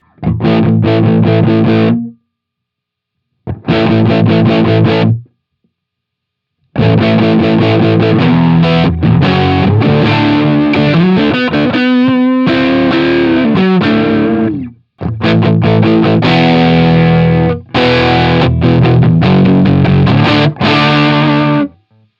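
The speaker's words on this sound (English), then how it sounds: "If I make up for that volume difference by increasing the drive, it's still pretty muddy." Overdriven electric guitar plays distorted chords and riffs in several separate bursts with short silences between, loud and close.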